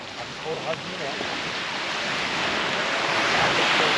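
Surf rolls in as a steady broad wash of sea waves at a Hisarönü campsite, with wind buffeting the microphone and the surge growing louder toward the end.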